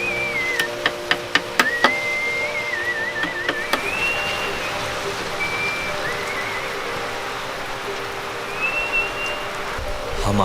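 Heavy monsoon rain pours steadily over Mawsynram, Meghalaya, a dense continuous hiss with scattered sharp drips and clicks, and faint high chirps coming and going in the background.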